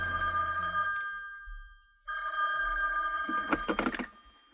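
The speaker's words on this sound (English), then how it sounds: "the phone was ringing" A telephone bell rings twice, loud and close, a bright trilling tone with a short pause between the rings.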